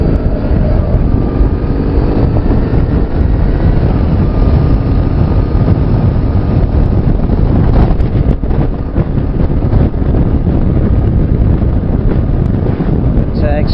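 Strong wind roars steadily and loudly into the microphone outdoors during a motorcycle ride out at a memorial site, a dense continuous buffeting rush with no gaps.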